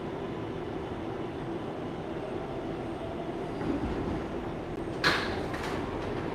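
Manhattan-bound 7 local subway train in New York City riding along, a steady broad rumble of car noise throughout with a brief metallic screech or clatter near the end.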